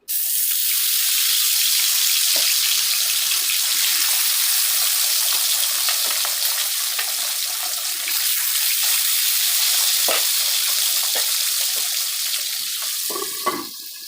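Pieces of katla fish go into hot oil one by one for a village-style thin curry, giving a loud, steady, hissing sizzle that fills the whole stretch, with only faint clinks and no talk.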